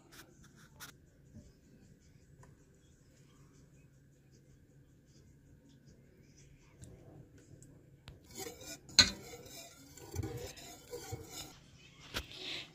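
A spoon scraping and clinking in a pot as whole milk is stirred into roasted butternut squash soup, faint at first and then louder with scattered taps against the pot, with a few quiet voices nearby.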